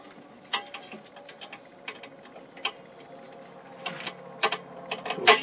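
Bolts being tightened by hand on an inverter under repair, giving intermittent metallic clicks and ratcheting ticks scattered through the clip, close up and fairly quiet, with no talk.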